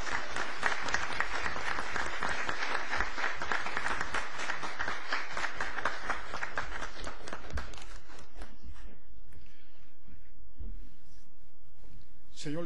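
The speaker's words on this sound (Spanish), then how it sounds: "Recibámoslo con el cálido aplauso que salga este auditorio" Warm applause fills an auditorium at a general assembly, dense and loud for about eight seconds, then thinning to scattered claps and fading into quiet room tone.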